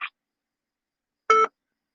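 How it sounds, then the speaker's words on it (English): Voicemail recording tone on a phone line: a short faint chirp, then after a second of silence a single clear electronic beep lasting about a fifth of a second. "At the tone, please record your message."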